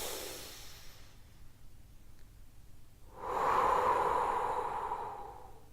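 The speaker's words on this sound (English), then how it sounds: "I put both feet on the floor, close my eyes, and I just breathe into my belly and I go." A person takes a slow breath in through the nose, then lets out a long, audible sigh of an exhale that swells and fades over a couple of seconds, close and fairly quiet with nothing else around.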